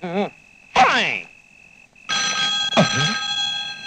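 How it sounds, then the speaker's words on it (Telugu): A telephone bell rings in a Telugu comedy scene, a loud, harmonically rich electronic ring that sounds in two bursts close by, with a voice and a brief rising tone heard around it. "ఈ టైంలో ఫోన్ మోగుతుందంటే ఎవరితో ఎవరి కోసం ఫోన్ చేసి ఉంటుంది"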